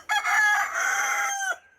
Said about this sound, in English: Them roosters makes that sound